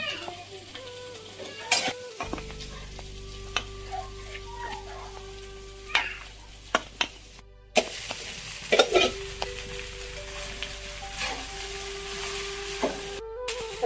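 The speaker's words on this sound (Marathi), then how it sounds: "शाबू मध्ये ना मिक्स करून घेते आता" Ground peanut powder being stirred into sabudana (sago) in a pan for a fasting dish: repeated scraping stirs and light sizzle, close, with scattered sharp spoon knocks against the metal and a steady low hum underneath.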